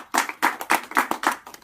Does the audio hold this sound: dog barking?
no